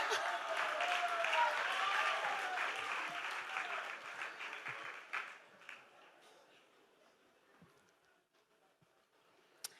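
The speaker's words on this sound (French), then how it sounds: "On l'applaudit s'il vous plaît." Audience at an awards show applauding, loud clapping at first that thins out and fades to scattered claps and near silence by the end.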